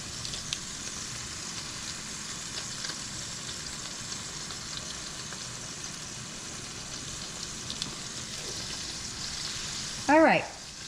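Ground beef sizzles steadily in a frying pan for a taco skillet, a continuous close crackling hiss that runs throughout, ending with a brief louder burst of voice.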